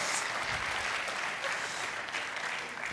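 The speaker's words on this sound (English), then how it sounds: "Everyone, give them a round of applause, please." Dense audience applause at a church service, a continuous wash of many hands clapping at steady volume throughout, with no speech over it.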